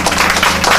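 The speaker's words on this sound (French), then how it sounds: "que je vous prie également d'applaudir très fort" Loud, close clapping from the audience at the inauguration ceremony of the Banikouara agency, greeting the board president in a short, dense burst under a second long.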